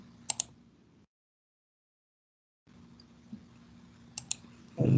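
Computer keyboard keys and mouse buttons click during a CAD drawing session, a few sparse light taps separated by quiet stretches, with a brief dropout in the middle and a louder bump at the end.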